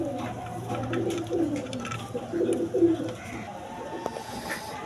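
Soft pigeon coos repeat at a steady pace, close by, over a low constant hum and faint background noise.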